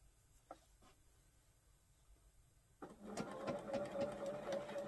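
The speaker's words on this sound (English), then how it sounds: "I'm just going to get to sewing" A home sewing machine stitches quilting cotton fabric, starting after a few quiet taps with a steady close mechanical whirring and rapid needle chatter that continues to the end.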